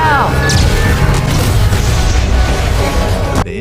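A fully charged annihilator cannon fires an energy blast that wipes out a bot army in a sci-fi film, a loud sustained roaring boom with crashing debris that fills the whole stretch before cutting off abruptly near the end.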